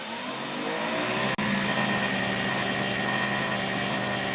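A Greenworks 80V battery pressure washer sprays in turbo mode at 1350 PSI. It gives a loud steady motor whine and water hiss that run continuously, broken by one brief dropout.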